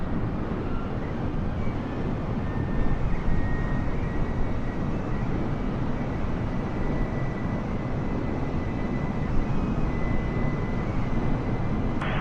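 Air Canada 129 airliner rolling for takeoff on runway 23, a steady, loud broadband engine roar with wind rumble that holds evenly throughout with no speech.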